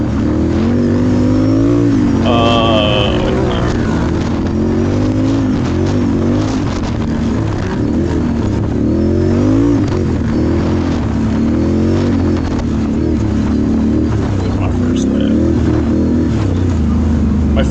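Race car engine droning loud and steady through a lap of a race, rising and falling in pitch with shifts and throttle changes, with a voice faintly underneath.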